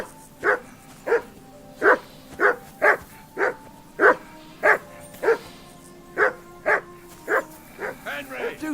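A dog barks repeatedly in Kingdom Come: Deliverance 2, a steady run of about fifteen sharp, close barks with yips near the end, heard alone.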